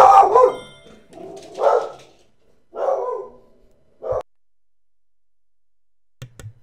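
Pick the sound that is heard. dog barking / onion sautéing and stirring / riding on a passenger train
dog barking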